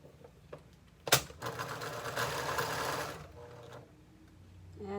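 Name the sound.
serger sewing machine serging a side seam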